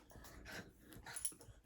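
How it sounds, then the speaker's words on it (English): A pet dog rolling and rubbing itself on a couch makes faint, soft whimpery yips and snuffling grunts, several brief close bursts over a quiet room. "Dogs."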